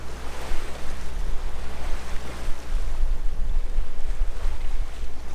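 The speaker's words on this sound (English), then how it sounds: "We've been motor sailing half the day into Erie, Pennsylvania" A sailboat motor sailing on Lake Erie toward Erie, Pennsylvania, with a low steady engine hum under loud rushing wind and wave wash against the hull, with no talk.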